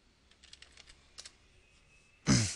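Typing on a computer keyboard while drafting sheet metal parts in CAD software: a scattered run of light, quiet key taps, followed by a louder burst of broadband noise at the very end.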